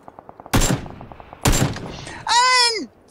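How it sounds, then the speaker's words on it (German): Gunfire in PUBG: two sharp, loud shots about a second apart, each with a bright crack and a short decaying tail, over a faint rapid ticking, followed by a rising-then-falling tonal whine. "Jetzt hat mir ein anderer geschossen."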